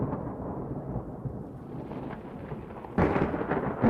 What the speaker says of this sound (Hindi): बिजली कड़क रही थी।